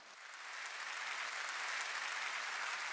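A seminar audience in Korea applauds themselves, a dense, steady wash of clapping that swells in over the first half-second and then holds loud and even with no talking.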